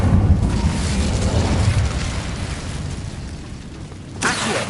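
An Incendio fire spell is cast in the Hogwarts Legacy game, a loud low whooshing burst of flame that roars and fades, followed by a brief fresh flare near the end.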